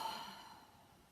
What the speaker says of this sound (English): exhale all the air out